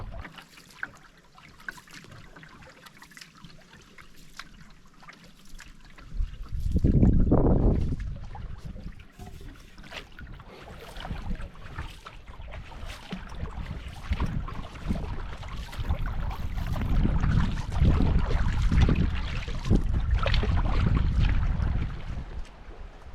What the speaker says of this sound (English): I was just paddling along